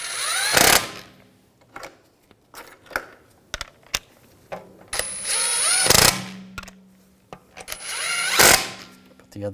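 Wheel lug bolts being snugged down on a 2007-2013 BMW 328i with a ratchet, sharp repeated clicking bursts close by, separated by short pauses and metallic clinks.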